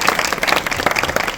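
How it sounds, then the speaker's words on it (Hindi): Brief burst of audience clapping at a Hindi celebration marking Bhupendra Jain's second anniversary of recovery, dense and steady across the moment with no talk over it. "हम सबकी तरफ से कृपया ताली बजाकर अभिवादन करें"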